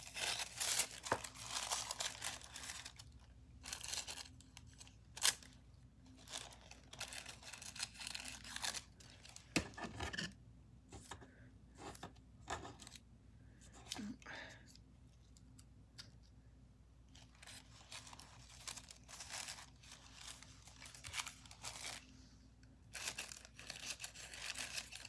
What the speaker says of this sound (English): I think I'll just cut up a bunch of little bits here